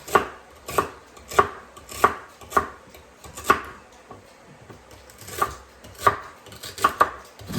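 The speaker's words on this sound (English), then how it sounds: "Chop those up real fine" A knife chops celery finely on a cutting board in a steady series of sharp, close knocks, roughly a dozen strikes at an uneven rhythm with no talking.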